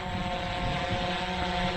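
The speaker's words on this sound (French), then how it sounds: "Tac, je l'arrête, notre drone." A PowerEgg X drone's propellers keep up a steady, close whirring hum with tonal whine during a flight test outdoors, with no talking.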